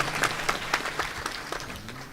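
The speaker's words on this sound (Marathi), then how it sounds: "एकदा टाळ्या वाजवा त्यांच्या नावाने" Scattered hand clapping from a crowd at a devotional kirtan gathering, a brief fairly faint burst of applause that trails off.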